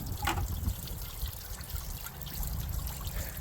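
Coolant trickling and dribbling steadily from a cut hose on a 1996 Jeep Cherokee, a soft continuous liquid flow heard close up.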